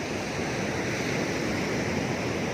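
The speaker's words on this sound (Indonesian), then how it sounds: "Si ombaknya di sini lumayan gede ya" Big ocean waves crash against large rocks on a beach at Cidaun, a continuous, broad roaring wash with no gaps, steady and fairly loud with no voices.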